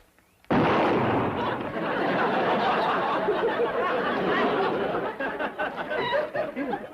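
Two revolvers fired in a classic TV western comedy, several sharp gunshot blasts in quick succession followed by sustained echoing reverberation and rumble, loud and close, with faint laughter mixed in.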